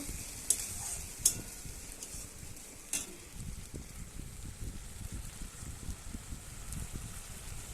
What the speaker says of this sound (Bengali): একটু কালারের জন্য একটু লঙ্কার গুঁড়ো। এবার এটা কষিয়ে নিব।